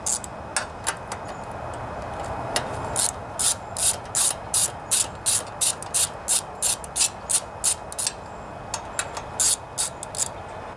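A ratchet with a 10mm socket works a fastener on the Nikki carburetor of a Briggs and Stratton Intek engine, giving a close, crisp run of rapid clicking bursts in a steady back-and-forth rhythm, with no talk.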